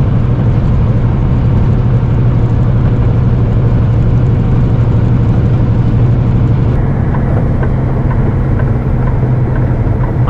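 Car cruising along the Trans-Canada Highway 1 in Saskatchewan, a steady low engine and road rumble that holds at a constant loud level throughout, with no voices.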